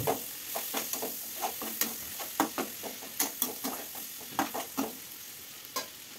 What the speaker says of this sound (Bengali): এখানে এর মধ্যে আমি একে দিয়ে দেবো হলুদ আর লবণ